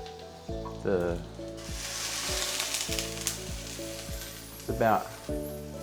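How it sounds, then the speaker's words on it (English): Butter and eggs sizzle in a frying pan with a steady crackle, broken by a few soft utensil scrapes and brief talk. "we're gonna chuck a bit of butter onto the fry pan"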